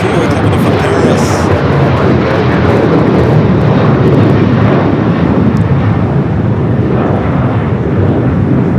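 An Air France airliner arriving from Paris at Los Angeles International, with continuous loud jet engine roar throughout, steady and close, slightly easing toward the end.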